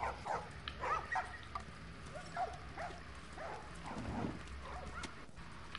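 Dog barking in The Last of Us video game, a few short yips and barks scattered over several seconds, fairly faint and set against ambient game sound.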